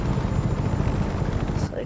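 A helicopter in the open-world video game Just Cause 3 gives a loud, steady rotor drone close up, with a voice talking over the roar throughout.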